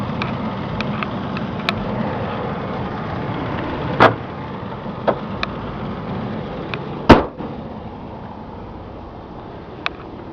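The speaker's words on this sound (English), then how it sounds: "the air conditioning is cold, the engine sounds nice, and it runs well" A 2002 Chevy Astro LS AWD van with a six-cylinder engine idles steadily in a low continuous rumble, broken by a few sharp clicks and two louder knocks nearby, no talk.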